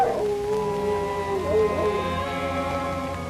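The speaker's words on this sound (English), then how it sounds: "That dog frightens me." A dog howls in a 1958 haunted-house horror film, a drawn-out wavering cry rising and falling over a droning music score, fairly close and loud.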